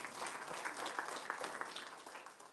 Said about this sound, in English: go ahead and clap for him